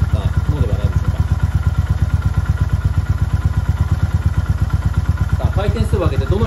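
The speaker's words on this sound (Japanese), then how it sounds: "まずアイドリング回転数旋回転からのスタートです" A Honda GB350S motorcycle fitted with a chassis performance damper idles close by, its engine giving off a steady, even stream of low thumping pulses the whole way through.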